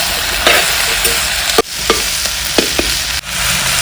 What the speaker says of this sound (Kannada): ಈಗ ಒಂದ್ಸಲಿ ಚೆನ್ನಾಗಿ ಮಿಕ್ಸ್ ಮಾಡ್ಕೊಳ್ಳೋಣ.